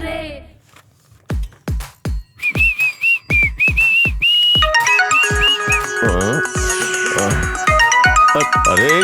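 A phone ringtone sounds for an incoming call, loud and close: first a series of sharp rhythmic plucked notes, then a bright whistled melody over them, building into a dense, continuous electronic tune.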